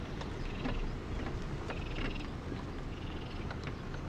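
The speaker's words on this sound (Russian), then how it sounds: "Блин, лягушки, красиво." Frogs croaking outdoors somewhere in wild Jordan, a faint repetitive chorus of calls sitting in a constant low wind-like background rumble, with no talking.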